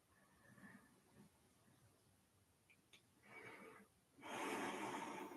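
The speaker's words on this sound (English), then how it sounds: "allow your breathing to come back to a natural pace" Slow, deliberate breaths during a guided coherence breathing exercise, faint and close, with a soft breath around the middle and a louder, fuller exhale near the end; no talking.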